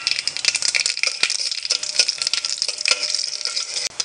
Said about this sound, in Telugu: ఇంగువ మినప్పప్పు కొద్దిగా శనగపప్పు కొద్దిగా వేగాని